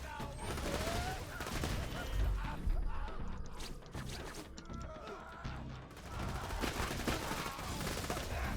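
Rapid gunfire from a weapon in the Borderlands 2 video game, with dense bursts of shots and mechanical clatter running nearly continuously throughout, loud and close, amid a busy combat mix.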